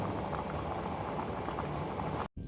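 Chicken stew bubbling in a pot after water is added, a steady close simmering burble that cuts off abruptly near the end.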